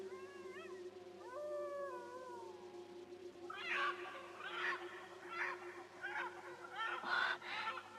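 An eerie, warbling fowl-like cry in an Indonesian mystery audio drama, rising and bending in wavering calls over a steady low drone, then giving way to breathy surging bursts.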